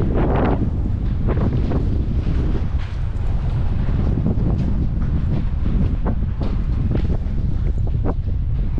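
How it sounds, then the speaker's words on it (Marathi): Strong wind roars across the microphone on a walking bridge at a railway station, a loud, constant buffeting rush that stays steady throughout with gusty swells. "हवा किती सुटली"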